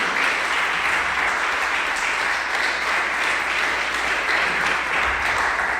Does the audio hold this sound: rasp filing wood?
no